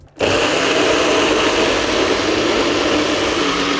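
A kitchen blender grinds a spice paste with oil, starting abruptly after a brief silence and then running as a loud, steady, close whirring roar until the end, with no voices.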